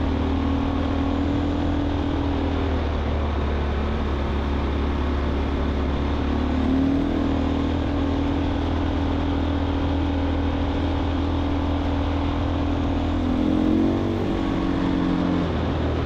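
Husqvarna off-road motorcycle riding through sand, a continuous close engine drone with rising and falling revs as the bike labors, loud and steady throughout with no talking.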